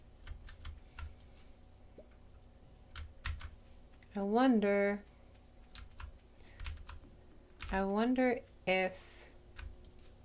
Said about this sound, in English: the clicking is very loud. Desktop audio.